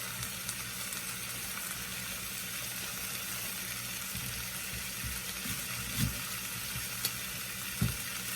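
Pork loin browning in a pan sizzles steadily, a close, continuous frying hiss with a few soft clinks and bumps, no talking.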